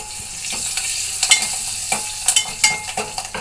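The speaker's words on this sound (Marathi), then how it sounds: "डाळ टाकून देते" Dal stirred into spiced masala in a pan, with a spoon scraping and tapping in irregular close strokes over a soft, steady sizzle.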